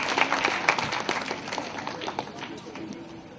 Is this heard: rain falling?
no